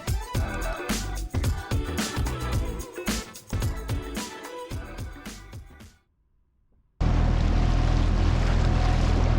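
A boat motoring along the Intracoastal Waterway in South Carolina, loud buffeting wind and water rush, a near-silent gap, then a steady dense roar of wind and engine on the water.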